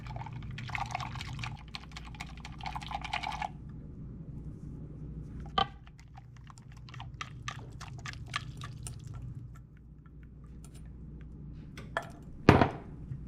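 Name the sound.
milk being poured into hotdog casserole mix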